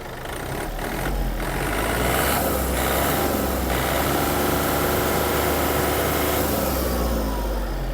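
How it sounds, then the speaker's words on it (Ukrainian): Yanmar AF-330 mini tractor diesel engine running steadily at raised revs, a loud, close, continuous chattering drone with a low thrum, no talk over it. "ось така робота двигуна нашого Янмара"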